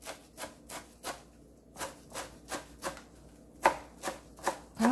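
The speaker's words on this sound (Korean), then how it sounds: "그리고 방아를 총총총 썰어줄게요." Korean mint (banga) leaves being finely chopped with a knife on a board, a run of about a dozen quiet, close, slightly uneven thuds with no speech.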